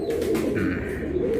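Racing pigeon cooing close by in a steady low murmur, a continuous soft bubbling coo without talk over it.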